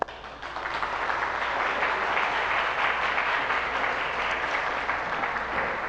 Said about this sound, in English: A round of applause for the graduates.